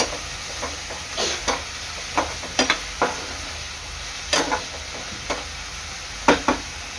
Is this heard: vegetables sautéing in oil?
yes